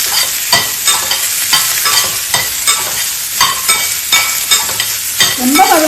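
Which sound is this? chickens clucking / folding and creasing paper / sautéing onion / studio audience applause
sautéing onion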